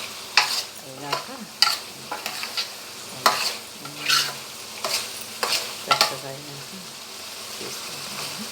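Chicken curry sizzling and frying in a pan, a steady close crackle with repeated stirring scrapes, while someone talks over it.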